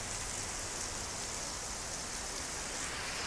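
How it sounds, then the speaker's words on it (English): Steady rain falls hard and evenly outdoors on a wet summer day in Raleigh, North Carolina, a dense unbroken hiss with no voices. "if it keeps raining"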